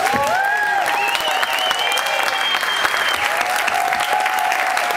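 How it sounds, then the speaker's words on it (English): Sustained applause from a gathered crowd at a charity event, dense steady clapping holding throughout with a few whoops and cheers rising above it. "Big round of applause for Aaron Jackson"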